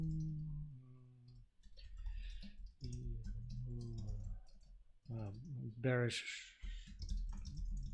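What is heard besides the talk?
typing on a computer keyboard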